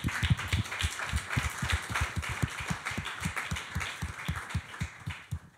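Applause from an audience at a talk on the Gömböc mathematical shape, a steady run of moderately loud claps with regular, distinct hand hits throughout, fairly close.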